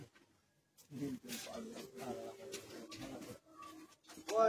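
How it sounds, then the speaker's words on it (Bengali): A Mendel pigeon, a Chennai breed, makes soft cooing in a pigeon loft, largely masked by people talking close by through most of the stretch. "এটা অ্যাকচুয়ালি এখানকার পায়রা না, এটা মানে চেন্নাই পায়রা আছে। এটা মেন্ডেল পায়রা।"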